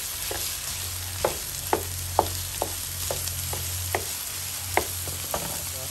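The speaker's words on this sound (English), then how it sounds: "we're going to add the pork, veal, and beef mixture. And we're going to break it up in the pan." A pork, veal and beef mince mixture browns in a pan with a steady sizzle under a low hum, punctuated by sharp scraping clicks as a utensil breaks up the meat.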